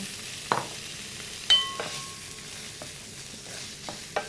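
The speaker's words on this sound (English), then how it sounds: "And in goes the bacon." Bacon sizzling softly in a pan with garlic for pasta carbonara, a steady low hiss broken by a few clinks and scrapes of a utensil.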